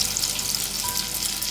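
Chicken pakora frying in hot oil for a chili chicken dish, a steady, close crackling sizzle that runs evenly throughout with no voices.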